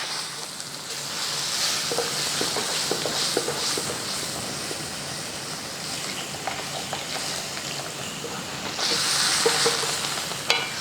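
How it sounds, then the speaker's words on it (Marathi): Milk poured into roasting semolina for sheera crackles and sizzles in the pan while a spoon stirs, a continuous moderate frying hiss that swells louder near the end, with no talking. "जसं जसं दूध घालू तसं रवा छान फुलत जातो."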